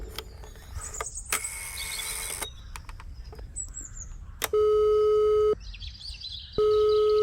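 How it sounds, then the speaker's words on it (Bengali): An old rotary-dial telephone line gives long steady electronic tones after dialing, two sustained buzzing rings separated by a pause, loud and close, with earlier scattered beeps and clicks and no talk. "আরেকবার উঠে গিয়ে ডায়াল ঘুরিয়ে ফোন করলাম।"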